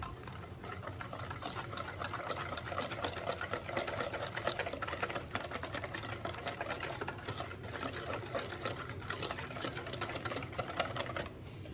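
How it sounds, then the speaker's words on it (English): Milk is whisked into a paste in a bowl with rapid continuous clicking and tapping, steady and close throughout, with no talking. "Now, let's go ahead and dump our milk in here. We're going to stir that up."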